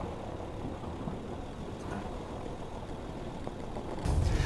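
A 2014 Honda Pilot rolls off-road down a snowy hill over small moguls, its engine and road rumble forming a steady, fairly loud drone that swells louder near the end.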